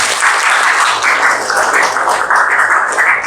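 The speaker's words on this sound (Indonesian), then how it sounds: "Oke, tepuk tangan dulu buat kita semua." Classroom applause, a steady, fairly loud clapping from a group of students that keeps going evenly without pause.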